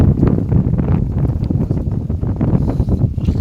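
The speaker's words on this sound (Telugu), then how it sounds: "గాలి ఎక్కువ ఉంది కదా" Strong wind buffets the microphone on an organic farm, a steady low roaring rumble that fills the whole short stretch with no other clear sounds.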